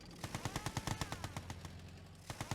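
Rapid bursts of gunfire from units battling in the real-time strategy game Yuri's Revenge, a quick uneven rattle of shots that tails off and briefly resumes near the end, with no talking.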